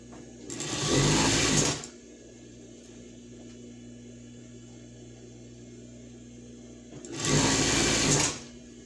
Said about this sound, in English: I'm sewing on the industrial machine